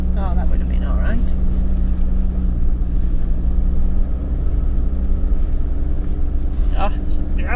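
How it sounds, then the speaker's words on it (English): Four-wheel drive vehicle on the sandy Sandy Point Track near Orbost, Victoria, its engine rumbling steadily and close inside the cab while a person talks briefly over it. "I don't really want to drive through all that sand."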